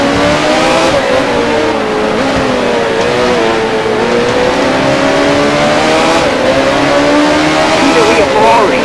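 Race car engine in the video game F1 Challenge at the 1979 Spanish Grand Prix at Jarama, a loud continuous drone with pitch rising and falling through gear changes while the car leaves the pit lane.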